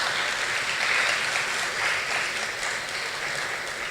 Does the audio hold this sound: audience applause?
yes